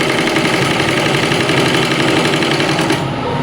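An electric sewing machine runs steadily and loudly up close while stitching pieces of trousers together, a fast, even mechanical whirr and needle chatter that slows slightly at the end.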